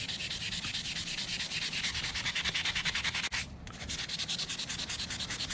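Sandpaper is rubbed rapidly back and forth over a horseshoe knife handle, a loud, close, rhythmic scratching with even strokes that pauses briefly before resuming.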